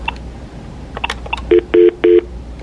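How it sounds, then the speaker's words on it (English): An office phone system's keypad sounds three clear, evenly spaced dialing tones, each about a quarter second long, after a few faint clicks and soft background noise. "It's time to log out from the phone system."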